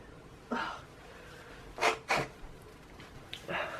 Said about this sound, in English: 1 second, I will sneeze if I don't.